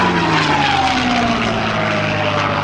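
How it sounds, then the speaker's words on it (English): A P-51 Mustang with its V-12 engine makes a low pass at an airshow, giving a loud, close, steady propeller drone that swells with a slight pitch shift as it passes. "the beautiful sound of the P-51."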